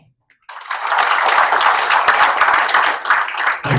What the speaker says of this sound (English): Please join me in giving a big round of applause for Ajay.